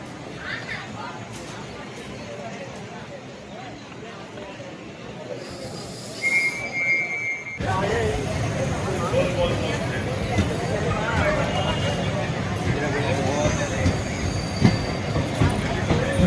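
A DEMU diesel electric multiple unit train at Thanjavur station rumbles and rattles on the rails with a brief squeal, growing louder midway as it comes close.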